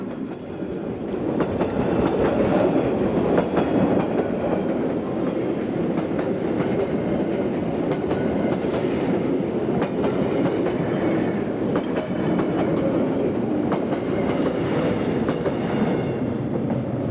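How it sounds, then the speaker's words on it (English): A Saigon–Hanoi passenger train running slowly on the railway into Hue station in Vietnam, a loud continuous rumble with rhythmic wheel clatter throughout, no voices. "chuyến tàu 6 Sài Gòn Hà Nội đã về đến ga Huế, tàu đang chạy chậm vào ga trên đường sắt số 2."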